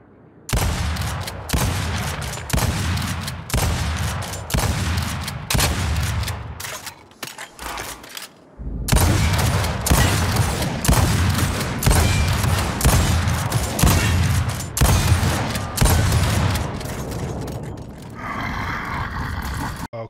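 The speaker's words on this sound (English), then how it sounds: "They've slowed down the fire rate of the Gnasher." Repeated Gnasher shotgun blasts in a Gears of War match, loud and booming in a steady slowed rhythm of bursts, with a brief pause midway before the firing resumes.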